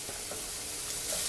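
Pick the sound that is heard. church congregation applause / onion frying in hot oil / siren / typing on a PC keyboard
onion frying in hot oil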